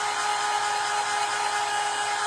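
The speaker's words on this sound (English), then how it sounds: "And then we're going to take the dryer to it" Hair dryer blowing on crackle paint, a steady loud whirring rush with a constant motor whine, heard alone.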